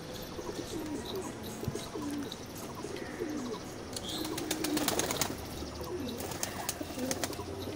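A male Kalshira pigeon coos close by in repeated soft, throaty phrases, with light rustling and a few sharp clicks midway and no talking.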